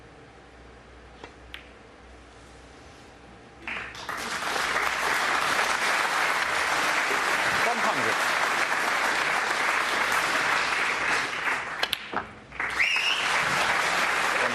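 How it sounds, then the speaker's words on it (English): Snooker crowd at the 2018 Players Championship quarter-final, Murphy versus McGill, bursts into loud, sustained applause after a brief spoken score call, the clapping swelling and holding steady with a short dip near the end. "Well-merited applause"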